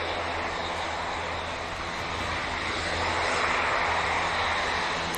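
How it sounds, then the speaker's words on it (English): At Manchester Airport, an EasyJet airliner rotating on its takeoff run produces a continuous broad engine roar that swells slightly louder toward the end. "EasyJet just rotating."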